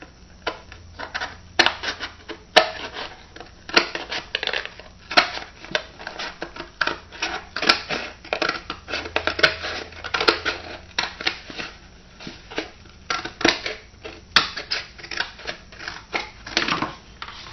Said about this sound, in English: So pretend there's a line down the middle of this plate, and we're just going to cut it